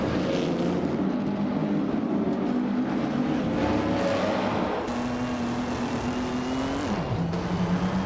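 A 1958 Maserati 250F race car engine in a racing game, its sustained high-revving drone rising and falling in pitch, with a sharp downshift near the end, loud and continuous with no talk.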